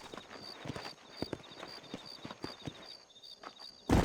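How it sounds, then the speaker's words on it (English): Horse hooves clip-clop in Red Dead Redemption, a steady run of hard hoof strikes over a dirt outdoor ground, with a faint high whistle-like tone above, ending in a louder burst. "These are fine horses"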